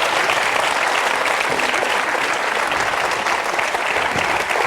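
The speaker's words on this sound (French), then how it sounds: "Et puis les applaudissements du public." A studio audience on the French Who Wants to Be a Millionaire quiz show applauds in a steady, dense burst of clapping that holds at an even level throughout.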